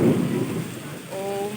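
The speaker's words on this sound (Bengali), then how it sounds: "বিদ্যুৎ চমকাচ্ছে ভাই" Thunder rumbling during a heavy thunderstorm, a loud low roll at the start that fades over a second and a half, with rain beneath and a faint voice near the end.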